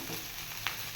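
Leftover idli with a pinch of turmeric frying in a pan makes a soft, continuous sizzle with one brief sharp crackle, close and quiet, with no one speaking.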